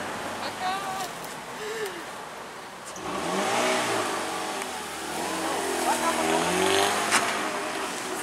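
A car pulls away quietly from a seaside holiday house in Lazurnoe, its engine rising to a steady, moderate drone after a few seconds, with people talking nearby underneath.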